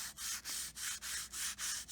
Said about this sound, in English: A little filing and sanding.